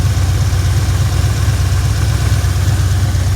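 A Ford engine with a repaired oiling fault runs at high idle, a loud, steady, close mechanical hum with an even low throb and no change in pace, with no other sound over it.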